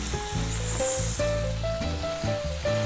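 Continuous crackling sizzle of meat for chili browning in a hot cast iron skillet, heard alone alongside steady tonal hum from the cooking surroundings.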